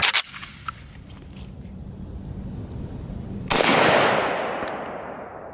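An IWI Galil ACE rifle fires outdoors: a sharp shot at the start and another loud report a few seconds later, followed by a long, fading echo rolling off the surroundings.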